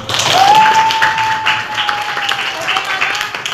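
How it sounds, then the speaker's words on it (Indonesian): A high-school class of 11th graders applauds at the end of an observed lesson, a steady wash of clapping with a thin sustained tone running through it and some voices mixed in. "tepuk tangan buat kita semua"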